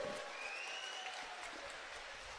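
Audience applause at a political rally addressed by a Union minister in Katwa: sustained clapping from a large crowd, with a few whistles slicing through the steady roar.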